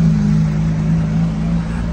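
A car drives along with a steady, loud low engine drone throughout, heard from inside the vehicle with no speech.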